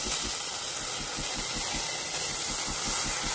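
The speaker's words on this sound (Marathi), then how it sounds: "तेव्हा मिक्सरला लावून घेते।" A kitchen mixer grinder runs steadily with a loud, continuous whirring drone and a regular pulsing thump, no voices over it.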